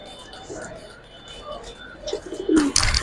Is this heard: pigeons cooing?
yes